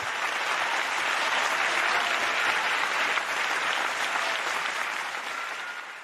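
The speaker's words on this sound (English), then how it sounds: "Please give our doctoral family another round of applause." Sustained audience applause at a peace festival, a dense, steady wash of many hands clapping that holds strongly throughout and tapers slightly near the end, with no speech over it.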